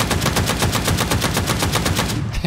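Rapid full-auto bursts from the O12 slug shotgun in PUBG crack out in a dense, evenly spaced string of loud shots with no pause, cutting off sharply just before the end.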